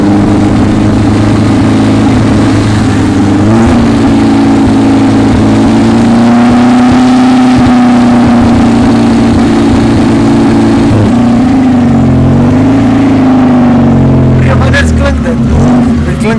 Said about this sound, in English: Een VW wat zo getuned man.